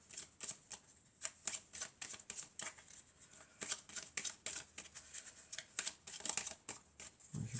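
Tarot cards are shuffled and cut by hand in a quiet room, a rapid series of close, soft riffling flicks and slaps in an uneven rhythm lasting several seconds.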